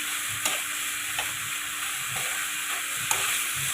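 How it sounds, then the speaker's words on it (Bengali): Prawns fry with spices in a pan, a loud constant sizzling hiss broken by regular scraping strokes of a spatula, roughly every half second. "আগে চিংড়িটাকে ভালোভাবে মশলা দিয়ে সমস্ত রকম মশলা দিয়ে একটু কষিয়ে নিচ্ছি।"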